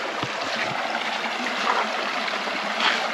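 A clear mountain stream in a nature park flows with a steady, close rushing hiss, continuous and fairly loud with no voices over it.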